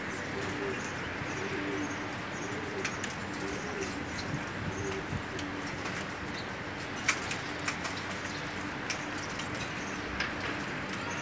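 Pigeons in a loft in Dubai coo softly in repeated low phrases, with faint chirps and occasional sharp clicks over steady outdoor background noise.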